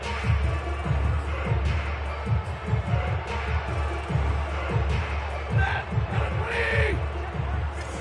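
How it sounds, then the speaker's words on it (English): Crowd at an NFL divisional playoff game between the 49ers and Rams in a football stadium, a loud, continuous roar of shouting and cheering that swells in waves, with a steady wash of stadium noise underneath. "Plenty of shouts from this crowd as they watch the replay"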